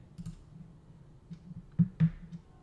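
Mouse clicks while importing subscribers on a computer, a few sharp, quiet taps scattered over a low background hum, with two brighter clicks close together near the end.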